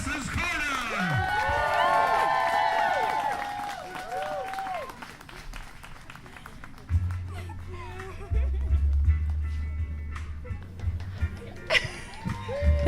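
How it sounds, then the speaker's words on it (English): Wedding guests break into applause and cheers after the ceremony, a lively burst of clapping and cheering with some laughter, followed by scattered claps as a voice over a microphone speaks. "Big round of applause here for Jenny and Melody"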